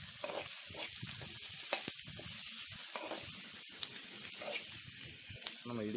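Onions sizzling and crackling in hot sesame oil, a steady frying hiss with occasional stirring clatter, fairly quiet and close.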